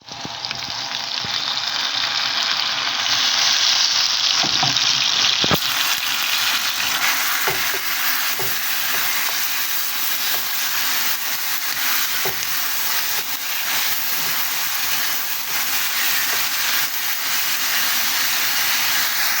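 Onion frying in a hot pan, a steady loud sizzle and hiss that runs throughout, with occasional stirring clicks.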